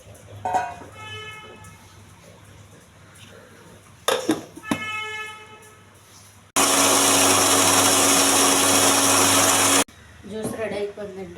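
A mixer grinder whirs loudly for about three seconds as it blends washed grapes without water into juice, bracketed by talking and clattering of the jar before and after.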